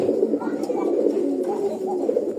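Rajgolla pigeons coo in low, rolling murmurs, several birds overlapping close by in a continuous soft burble, with faint chatter in the background.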